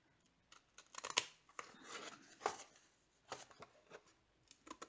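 Scissors snip through cardstock and patterned paper while a 6x6 Prima Rose Quartz mini album is being made, giving a few sharp, close cuts between quiet rustling and handling of the sheets.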